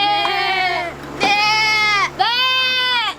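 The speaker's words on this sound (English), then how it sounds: "And even goat sounds." Goats bleat three times in a row, each call long, loud and close with a wavering, nasal quality. A steady low hum runs underneath.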